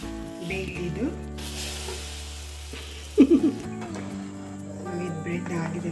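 A bread omelette fries in a pan just after being flipped, giving a soft continuous sizzle beneath intermittent talk, with a short burst of louder crackling midway.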